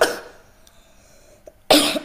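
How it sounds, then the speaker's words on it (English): Two harsh coughs, one at the start and a louder one near the end, separated by a quiet stretch with a faint click. "I'm coughing so bad right now"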